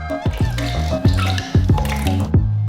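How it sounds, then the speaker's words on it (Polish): Egg whites poured into mixer bowls make repeated wet glugging drops, about seven distinct plops in an uneven rhythm, close and clear with no talk. "a do mikserów odmierzamy o połowę mniej, po 150 ml. Napełniamy je."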